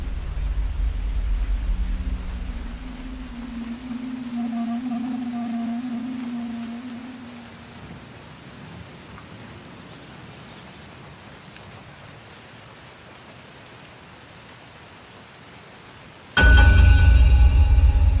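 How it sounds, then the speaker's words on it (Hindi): Heavy rain pours steadily with low rolling thunder rumbling through the first half, easing to a softer hiss before a sudden loud crack of thunder bursts in near the end. "और बीच में ही जोरों की बारिश शुरू हो गई"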